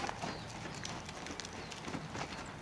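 Horse hooves clip-clopping at a show-jumping session, faint and fairly distant irregular thuds over quiet background.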